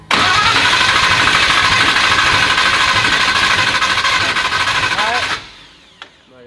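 An engine cranks into life after a shot of brake cleaner with no fuel pressure, then runs loud and steady for about five seconds before cutting off abruptly, leaving a brief faint knock and near silence.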